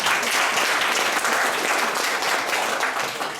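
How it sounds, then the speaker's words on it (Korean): Audience applause in a lecture hall at a Korean communication seminar, a dense burst of clapping at moderate loudness that tapers off slightly toward the end. "박수!"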